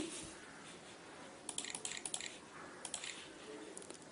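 Someone types on a computer keyboard while entering an ID number into an online form, a few short bursts of quick, close key clicks separated by brief pauses.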